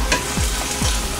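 Beef sizzles and spits in a pot as it is browned for bigos, a steady close frying hiss with a couple of scraping stirs.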